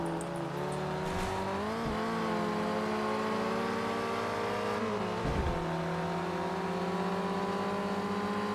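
Racing car engines roar steadily in the Touge Shakai mountain racing game, including a Mazda Miata, holding a loud, continuous drone with rising and falling revs and a brief dip in the middle.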